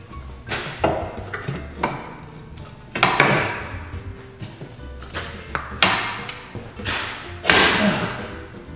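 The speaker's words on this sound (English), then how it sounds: "Ended up having to break out the hammer" Repeated heavy thuds of a hammer striking a metal control arm bushing on a diesel Mercedes, irregular blows spaced about a second apart, close and loud with clanking in between.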